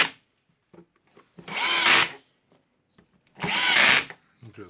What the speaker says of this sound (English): Here we'll take the screws out.